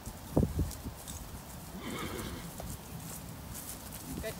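A horse neighs near the start of a lunging session while its hooves clip-clop steadily on the ground, with a person's voice faintly present.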